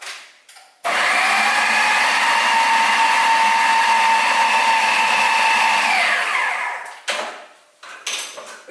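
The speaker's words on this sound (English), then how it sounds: "So we're putting the lid on our blender and just giving it a whirl." A kitchen blender mixes allergy-friendly gingerbread cookie dough in a loud, steady whir for about six seconds, then spins down. Clattering handling noises follow.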